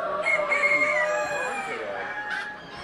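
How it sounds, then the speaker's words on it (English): Chickens at the Delmarva Poultry Fanciers Show in Delaware cluck and crow in a busy chorus, several birds close by and loud, with a brief higher call near the end. "Let's see some of the amazing chickens they have here."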